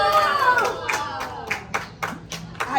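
An audience claps for a magician's egg trick, a burst of hand claps that settles into a run of distinct, fairly close claps, with some voices mixed in early on.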